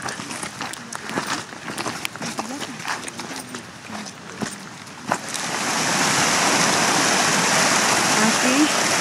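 A river during a cattle herding gathering in Quije, Sucre, Ayacucho. Voices and footsteps come first, then loud, steady rushing water takes over and continues to the end.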